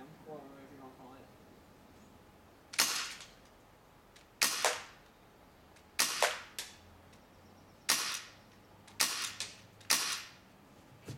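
An airsoft gun fires about eight sharp, snappy shots, singly and in quick pairs, spaced a second or two apart and close by, with a faint voice murmuring briefly before the first shot.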